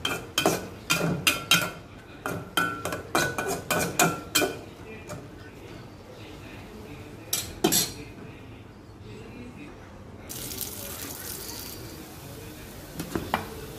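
Metal utensil scraping and clinking against a cooking pot as greens are stirred on a stove, a rapid run of sharp clanks early on, then sparse knocks over a low kitchen background with a faint hiss.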